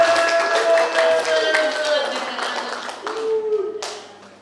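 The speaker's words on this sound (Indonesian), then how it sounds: "aplaus lagi buat Pak Irawan" Audience applause for Mr. Irawan at the Handarbeni work culture launch of the KPU Wonogiri regency, a dense run of clapping that fades toward the end, with voices and tonal background sound mixed in.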